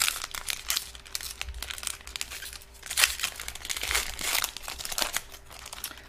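A foil trading card pack wrapper crinkles and tears open at close range, with a steady run of crackling, rustling bursts and sharper rips along the way, alone without talk.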